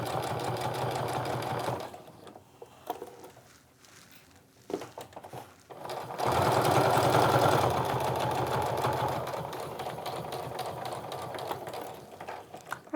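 A sewing machine stitches a fabric wristlet seam in two runs: a short burst, a pause filled with light handling, then a longer steady stretch at close range.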